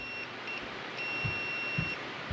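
A digital multimeter sounds its continuity beep while testing gauges on a 1976 Corvette: steady high-pitched electronic tones, a longer one sounding near the start and another through the middle, with faint low thumps underneath.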